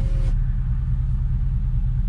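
An Infiniti Q45 engine fitted with Nissan Titan headers idles at a steady, low, even rumble, close and fairly loud, and it holds that sound for the whole stretch with no voices over it.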